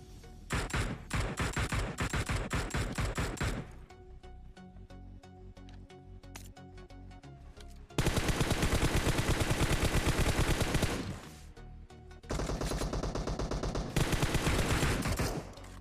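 Rapid bursts of automatic gunfire in a PUBG mobile firefight on a Redmi Note 8 Pro, loud and close: dense volleys for the first few seconds, a quieter stretch with scattered ticks, then long sustained strafing bursts near the end.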